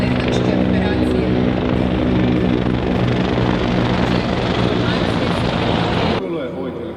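Military helicopter passing overhead during an anniversary parade, a loud steady rotor roar filling the whole stretch before dropping off sharply near the end, with a faint voice under it.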